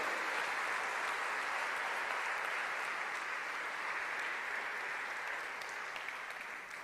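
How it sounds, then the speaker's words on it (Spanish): A church congregation applauds, dense sustained clapping from many hands that fills the room evenly and tapers slightly at the end. "Dale un aplauso."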